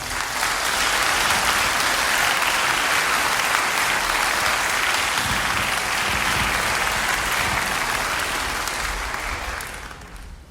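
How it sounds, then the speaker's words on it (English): An audience at a school band concert and awards ceremony claps loudly and continuously for about ten seconds, a dense, even wash of applause that fades out at the end. "Could we please give a round of applause to Matt and Dan?"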